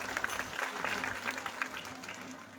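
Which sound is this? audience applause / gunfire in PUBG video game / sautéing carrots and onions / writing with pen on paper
audience applause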